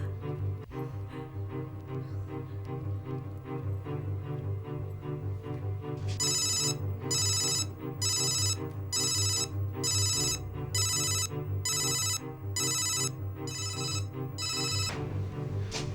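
A mobile phone ringtone, heard after a number is dialed, starts about six seconds in as a series of evenly spaced bright bursts over steady background music.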